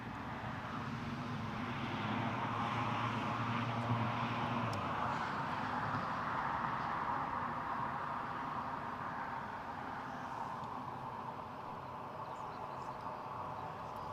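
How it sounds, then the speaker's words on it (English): Boeing Dreamliner at Newcastle airport, a steady broad jet roar holding throughout, loud and sustained as the aircraft moves along the runway, with a low tonal hum in the first few seconds. "we've got some Dreamliner action for you"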